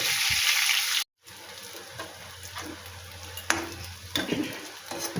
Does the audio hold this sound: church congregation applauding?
no